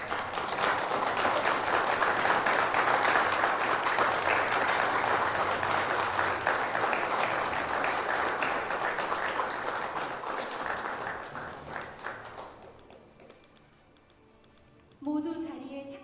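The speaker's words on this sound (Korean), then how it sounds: "박수 한번 부탁드립니다." An audience at an official Korea–Chile event applauds loudly and steadily for about twelve seconds, then the clapping fades out and a voice begins speaking.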